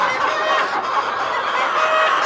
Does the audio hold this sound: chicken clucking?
yes